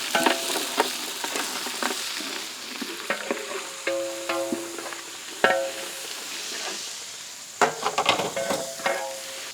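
Marinated mutton and onion pieces frying in oil in a pan, a steady sizzle broken by repeated scraping and clanking of a spoon stirring, close and fairly loud with no speech.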